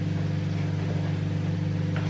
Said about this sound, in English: Try not to boil over all over my microwave